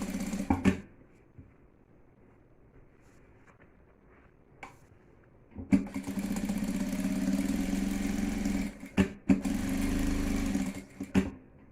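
A sewing machine runs a safety seam around a round toiletry bag, starting with a few short bursts and then stitching steadily for several seconds, with brief pauses near the end.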